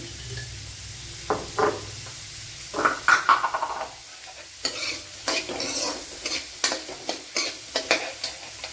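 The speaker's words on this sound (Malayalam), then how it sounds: "ഇനി സവാള നല്ലതുപോലെ ഒന്ന് വഴണ്ട് വരണം" Onions sautéing in a pan for a drumstick leaf thoran, with intermittent stirring scrapes and clatters over a soft background sizzle, close and moderately loud, no talk.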